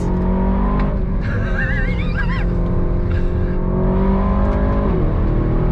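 Aston Martin DBX 707 SUV engine revving loudly through downshifts, with rising and falling throttle blips and a sustained growl close up, no talk over it.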